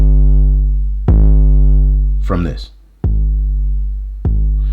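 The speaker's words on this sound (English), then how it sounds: "The first thing I'm doing is adding even more saturation to the kick." A heavily saturated 808 kick drum programmed in Beatmaker 3 hits three times with even spacing. Each hit is loud and booming with a long sustained low tail. A short voice comes in between two of the hits.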